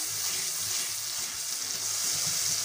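Marinade with a tablespoon of vinegar frying and being stirred in a pan, a steady loud sizzle with scraping stir sounds underneath and no talk.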